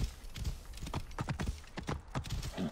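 A fiery horse gallops in the Assassin's Creed Origins video game, its hooves striking in a quick, rhythmic clip-clop pattern that is close and fairly loud.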